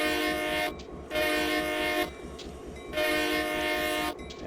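Locomotive in the Train Simulator 2014 video game on the Stevens Pass route, starting to pull away, with a loud, steady engine drone and repeated long horn blasts that stop and start again.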